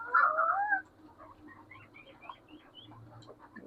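Young chukar partridge chicks give a loud burst of high chirping calls up close, followed by softer scattered peeps and faint background noise.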